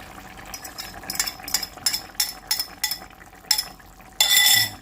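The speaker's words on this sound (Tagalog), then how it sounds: "Kailangan lang natin silang haluin para evenly po yung spread naman ng ating itlog." Egg is stirred into fried fish in a pan, making a rhythmic run of short scraping, bubbling strokes about three per second, then a longer, louder sizzling swish at the end.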